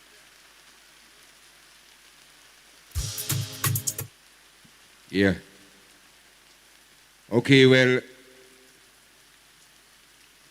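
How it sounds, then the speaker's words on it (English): Steady rain falls outdoors as a soft, even hiss that runs through the whole stretch, with three short bursts of talk over it. "you can see it's raining"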